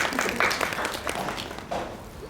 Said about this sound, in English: Please use round of applause.